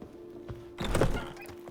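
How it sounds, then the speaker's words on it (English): A horse in The Witcher 3: Blood and Wine gives a brief neigh over a dull clop of hooves, close and moderately loud, lasting under a second against a steady game background hum. "Did you just run into my horse?"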